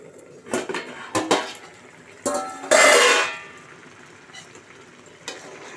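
A metal lid clatters onto a pot of Bambino vermicelli upma simmering in water: a few sharp clinks, then a louder ringing clang up close, with no voices.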